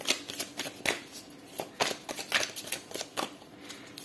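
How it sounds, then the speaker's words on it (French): Tarot cards shuffled by hand in a series of quick, crisp riffling and slapping bursts, close and fairly quiet, with no talk over them. "Désolé, mes cartes sont en train de sauter et tombent seules."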